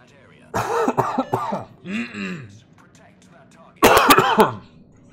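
A man streaming World of Warships while feeling unwell coughs and clears his throat close to the mic, a couple of loud harsh bursts separated by quiet, with no speech.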